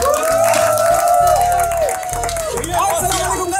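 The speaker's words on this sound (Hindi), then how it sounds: "सबसे पहले तो भाई को गाजी सबसे जोरदार तालियां भाई।" A crowd applauds and cheers with loud, continuous clapping and shouts for a guest, mixed with voices and a tonal hum throughout.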